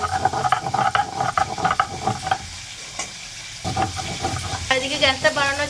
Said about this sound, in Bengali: দেখুন মাছটা ভাজা হচ্ছে এটা পুরো টাটকা পুকুরের মাছ